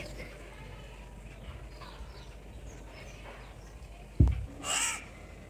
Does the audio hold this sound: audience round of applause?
no